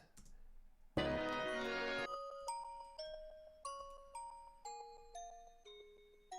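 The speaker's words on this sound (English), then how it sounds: "This one has these bells. It's a Vital patch called Music Box, apparently." Bright music-box synth bells from a Vital patch play a slow descending melody of plinking tones after a short burst of noise, each note ringing and fading.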